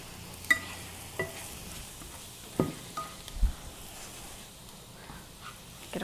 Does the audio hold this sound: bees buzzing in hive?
no